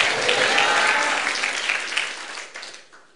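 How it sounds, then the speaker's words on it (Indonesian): Congregation applause at a church prayer service, a loud, full wave of many hands clapping together that slowly thins and fades out. "Tepuk tangannya dahsyat. Tepuk tangannya seperti 1000 orang."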